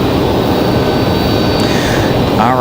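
An aircraft taking off at Raleigh-Durham International Airport on the far side of the field makes a loud, continuous, broad engine roar that holds steady throughout, with no voices.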